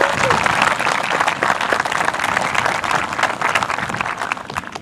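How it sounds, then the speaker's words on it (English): Sustained audience applause at a high school graduation ceremony for student speakers, dense and steady throughout with some crowd murmur mixed in. "Let's give them a round of applause again."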